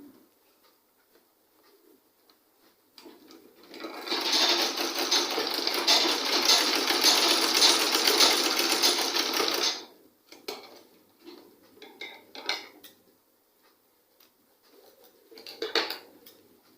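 A sewing machine joins the two shoulder seams of a simple A-shape gown, running loud and steady for about six seconds before stopping. A few short clicks and handling noises follow.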